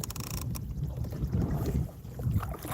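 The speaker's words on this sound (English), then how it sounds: "So we're kind of stuck paddling." Kayak paddling on a small lake of about twelve acres, with soft rhythmic water swishes and low splashes from the paddle strokes, steady and close, along with light wind noise on the microphone.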